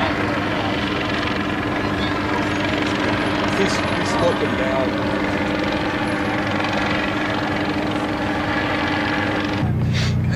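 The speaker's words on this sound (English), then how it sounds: "What the heck's that helicopter?" A helicopter's steady rotor drone hangs in the air throughout during a police standoff with SWAT officers, while people talk close by over the constant hum.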